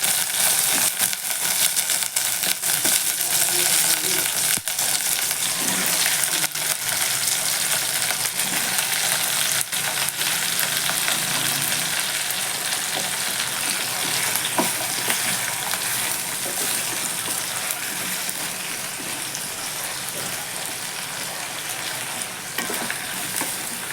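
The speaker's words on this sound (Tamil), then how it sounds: "இப்போ நம்ம கட் பண்ணி வச்சுருக்க கத்திரிக்காய் எல்லாத்தையும் போட்டுக்கலாம்" Brinjal pieces sautéing with onions in a pan, a loud continuous sizzle and crackle with frequent stirring scrapes throughout, close and without talk.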